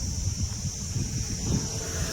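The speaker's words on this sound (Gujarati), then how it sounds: "બાકી તો પવન જ મસ્ત આવે રહ્યો" Steady wind blowing with low rumbling gusts, continuous throughout, no voices.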